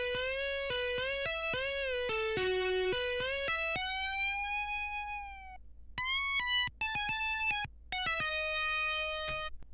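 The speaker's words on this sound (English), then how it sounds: "let's solo the lead guitar here" Soloed lead guitar from a song, a fast run of bending, sliding notes with sustained singing tones and brief pauses, clean and close with no talking.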